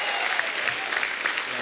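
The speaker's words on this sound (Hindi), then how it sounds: "जोरदार तालियां पीयूष और युजवेंद्र के लिए" A television comedy show's studio audience breaks into loud, continuous applause, a dense wash of clapping heard close and steady for the whole moment.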